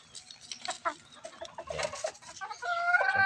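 A breeding hen clucks close by in a short, irregular series of soft clucks and murmurs, ending in a slightly louder, sustained vocal call.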